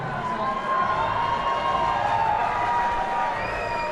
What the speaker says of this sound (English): the crowd very happy with Smith's efforts there